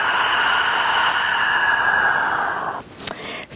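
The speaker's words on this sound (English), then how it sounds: "Exhale, open the mouth." A long, steady breathy exhale through an open mouth during a yoga stretch, close and sustained for nearly three seconds before trailing off, followed by a few faint soft rustles.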